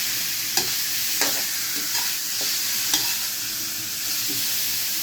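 Steady sizzling of pork ribs and shiitake mushrooms stir-frying in a pan, with a few clear scrapes and clacks of a utensil stirring at irregular moments.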